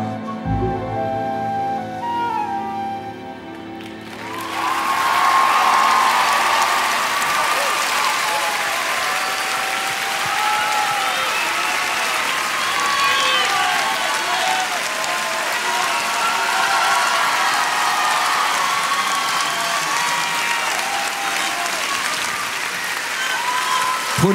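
A television talent-show audience applauds after a rendition of a song, a dense sustained clapping with some cheering that swells in after the last sung notes fade and holds loud and full.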